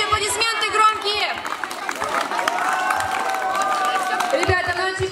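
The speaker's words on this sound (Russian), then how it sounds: "Давайте аплодисменты громкие!" Children at a summer camp applaud and cheer loudly in a lively crowd, with clapping, shouts and excited chatter mixed together, while a voice carries over the noise.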